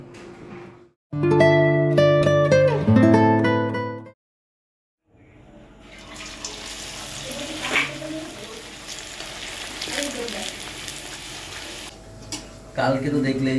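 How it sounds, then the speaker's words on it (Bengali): Luchi, puffed deep-fried flour bread, frying in a pan: a short burst of music gives way to a steady, fairly loud hiss and crackle of hot oil that fills the rest of the clip. "এখন গিয়ে সেই লুচি ভাজা হচ্ছে"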